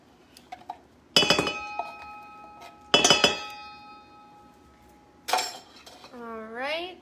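Cans of cream of mushroom soup are emptied into a green bean casserole mixture, giving three sharp metallic clinks with a ringing tail at close range, followed by a brief voice at the end.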